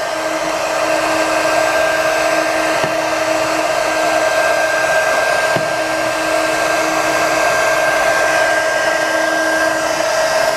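A heat gun blows hot air onto a balance scooter frame being bent, a loud, steady whine with a constant tonal hum, continuous and close with no pauses.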